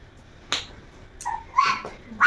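A teased dog gives a few short sharp barks and yelps, close by, in quick uneven bursts.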